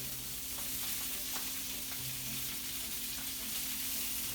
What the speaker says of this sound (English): My sausage still need a little bit more time. They're starting to brown really nicely.